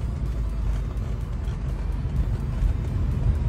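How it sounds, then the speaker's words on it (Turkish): A BMW E36 320 coupe's six-cylinder engine runs steadily at idle, a close, continuous low rumble without voices. "6 silindirin o karakteristik sesini"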